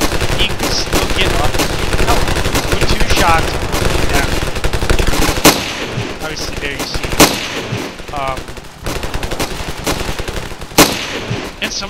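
Rapid automatic gunfire from the video game Ravenfield rattles almost continuously, loud and close, broken by a few sharper single shots and blasts in the second half.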